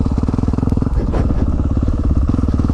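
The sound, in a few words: Yamaha 450 dirt bike riding uphill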